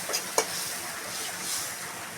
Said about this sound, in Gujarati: હવે એને ઉકળવા દઈશું